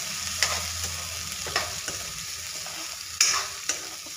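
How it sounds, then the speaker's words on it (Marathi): Afghani paneer tikka gravy sizzles steadily as it fries in a pan, while a spoon scrapes and stirs it in a few sharp, close strokes. No one speaks. "आणि ग्रेव्ही ॲड करायची व्यवस्थित आणि हलवून घ्यायला सुरुवात करायची."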